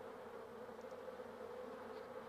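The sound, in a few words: bees fanning their wings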